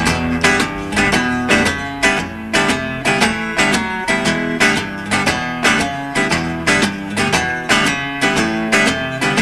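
Boogie woogie blues rhythm guitar chugs in a steady loud shuffle with repeated chord stabs, built up and full, alone with no talking.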